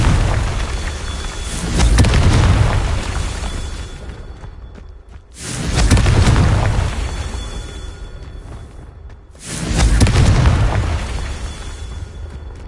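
Confringo spell explosions from the video game Hogwarts Legacy: three loud, booming fiery bursts in a row, spaced about four seconds apart, each swelling into a roar and trailing off into a crackling rumble before the next hits, with no talking.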